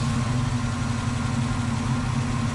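A car engine idles steadily with a deep, continuous rumble and low vibration, loud and close throughout, no voices.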